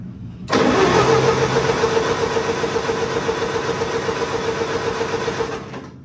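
The engine of a 1947 Cockshutt C30 tractor cranks continuously without firing, a loud steady mechanical churn with a rhythmic starter pulse that begins abruptly and runs for several seconds before cutting off.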